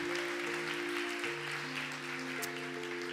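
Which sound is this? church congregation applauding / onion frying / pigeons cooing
church congregation applauding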